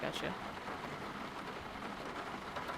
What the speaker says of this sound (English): How do you turn on rain? Down at the bottom. Oh, rain. Rain toggle.